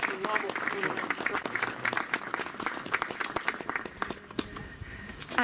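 Applause bursts out after a ribbon is cut at the inauguration of a European memorial at a former fascist internment camp in Casoli, Italy, a dense, steady crowd clapping that carries on through the whole stretch with a little talk mixed in.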